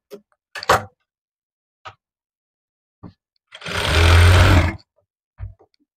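A sewing machine runs one loud whirring burst of about a second while stitching the side seam of a cotton summer frock, set between scattered clicks and handling taps in an otherwise quiet room.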